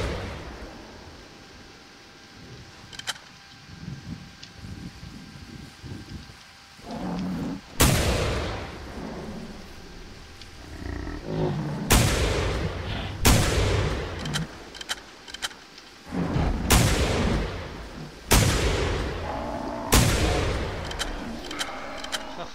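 Shotgun blasts in the hunting game theHunter: Primal: after a quiet opening of ambient outdoor noise, about seven loud, sharp booms ring out at irregular intervals, each followed by a short fading tail.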